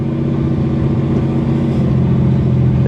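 Cold Chevrolet Corvair engine running loud with exhaust leaks, a close, steady throbbing rumble with a rough pulsing beat, with no talk over it.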